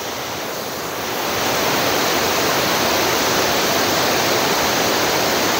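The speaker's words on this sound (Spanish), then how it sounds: "Impresionantes cascadas en el punto correcto, en el punto exacto" The Tamul waterfall in the Huasteca Potosina cascades in a loud, continuous roar of rushing water that swells slightly after the first second and then holds steady, with no voices.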